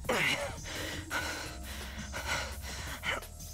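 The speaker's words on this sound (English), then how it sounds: "Panting!" Panting in the visual novel Fate/Stay Night, several quick ragged breaths and gasps in a steady rhythm, close and fairly soft, with no speech over them.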